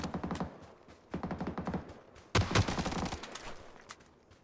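Rapid automatic gunfire from a G36C rifle in a multiplayer shooter game, in three loud close bursts of quick rattling shots separated by short pauses, with no talk over them.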